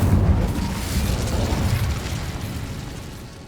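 A roaring fiery burst from an Incendio fire spell in the video game Hogwarts Legacy, loud at onset with a low rumbling body that slowly fades over a few seconds.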